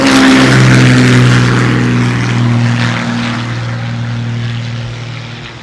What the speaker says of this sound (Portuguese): Pegando um helicóptero surreal que tá o dia inteiro voando e descarregando e distribuindo mantimentos.